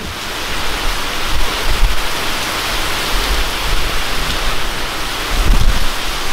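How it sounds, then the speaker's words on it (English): Very heavy rain pounds down outdoors at a lake, a loud, dense, continuous hiss with low rumbling gusts, and no voices. "I think that's the hardest I've ever seen it rain."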